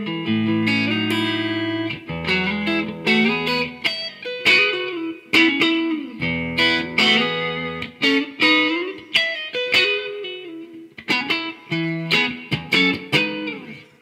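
Electric guitar played through a Bugera V55 amp head with reverb set at midpoint, a series of strummed chords and picked phrases ringing out loud and clear, each note decaying into a reverb tail.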